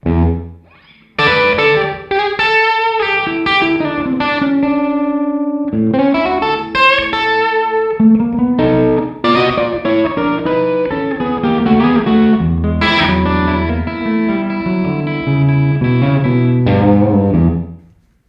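Electric guitar runs through a REVV D20 amp set to a hall reverb, playing loud, distorted chords and lines that wash into a spacious tail, continuous and alone until a brief fade at the end.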